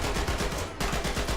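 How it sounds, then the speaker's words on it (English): A tank's .30 caliber machine gun in a video game firing a steady rapid stream of shots, loud and close, with an even rhythmic chatter and a slight hitch partway through, no voices. "30 cal machine gun. That ain't gonna cut it."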